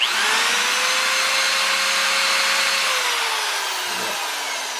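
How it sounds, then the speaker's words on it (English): A 1/2-inch electric drill with a 5/16 bit whines steadily into a bolt head on sawmill carriage hardware, one loud sustained motor run that sags slightly in pitch near the end. "So I got my 1/2-inch drill, electric drill motor out, and I got a 5/16 drill bit in there"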